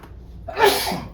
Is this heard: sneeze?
yes